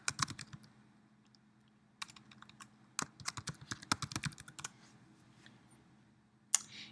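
Someone types an email address on a computer keyboard in short bursts of crisp, close key clicks, with brief pauses and a final sharper tap. The room is otherwise quiet.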